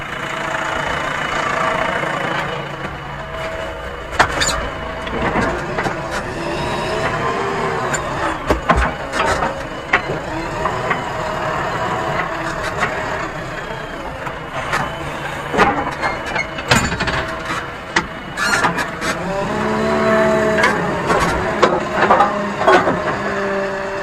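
A JCB 3DX Eco Xpert backhoe loader's heavy diesel engine runs continuously during site clearing and stone lifting, revving and labouring at times, with clanks and knocks of machinery working over it.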